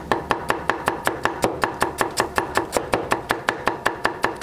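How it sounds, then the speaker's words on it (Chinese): A knife chops scallion, ginger and garlic on a cutting board for Sichuan boiled fish, striking in a steady rapid rhythm of about four crisp thuds per second, close and alone. "大葱切短圈圈，切成颗颗，切点小米椒，增加点辣度"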